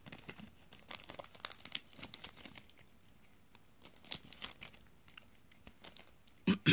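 A Pokemon card booster pack wrapper is torn open up close, giving a run of crinkling foil and plastic rustles with short tearing bursts and no talk.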